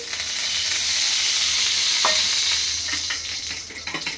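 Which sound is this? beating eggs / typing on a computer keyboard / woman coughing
beating eggs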